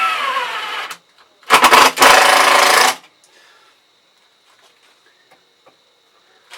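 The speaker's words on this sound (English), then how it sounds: "put our 50mm screws in, make sure that's all nicely" A powered driver sinks 50mm screws into a wooden bird feeder, two short bursts of close, buzzing whir separated by a brief pause, then near silence with faint clicks.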